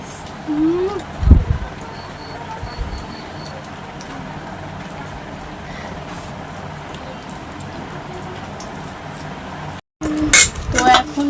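Rice is ladled onto plates at home beside a mutton dish, with occasional clinks of dishes and cutlery over a quiet room hum and a sharper clatter near the end. A voice speaks in the room.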